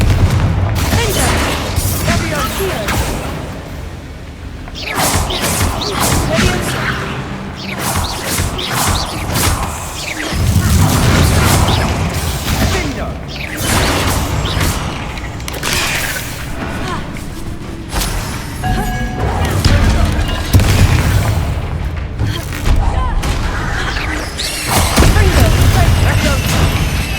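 Explosion spells cast in Hogwarts Legacy blast again and again with loud booms and crashes during combat, mixed with game music and effects and with a voice talking over them.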